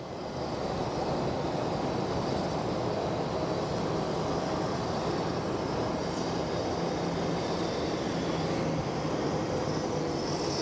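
Steady broadband roar of an airliner taxiing and departing at Phoenix Sky Harbor Airport, a continuous loud engine rumble with a hissing high whine, unbroken for the whole stretch with no talk.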